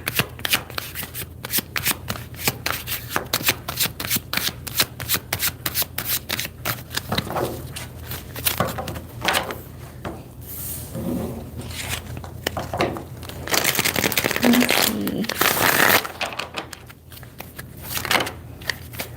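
Tarot cards shuffled by hand in repeated quick riffles and rubbing passes, crisp and close, continuing in bursts with brief pauses and a faint voice now and then.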